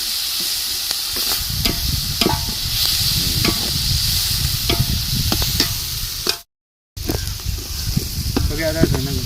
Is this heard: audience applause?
no